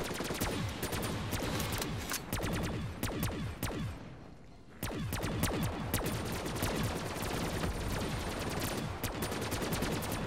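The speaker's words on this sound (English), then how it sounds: "Whoever the hell got fireworks on a gun?" Rapid bursts from a firework-shooting gun in a zombie video game, dense crackling volleys of shots repeating loudly throughout, with a short pause near the middle before firing resumes.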